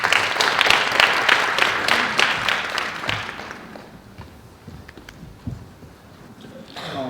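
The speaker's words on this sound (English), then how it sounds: "Please welcome him with a big round of applause." An audience at a 2019 UN DESA regional symposium on public governance claps loudly to welcome a speaker to the stage, then the applause thins into scattered claps and fades to a quiet hall.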